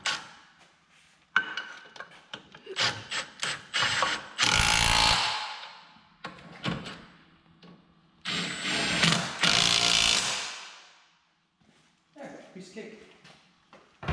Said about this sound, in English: And then we'll tighten up these bolts